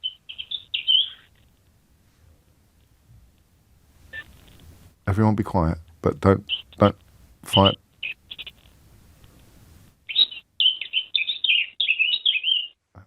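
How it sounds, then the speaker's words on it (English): A small songbird, a blackcap or song thrush, sings in a garden tree in bright, rapid warbling phrases at the start and end, while a person speaks in the middle. "It's either a blackcap or a song thrush."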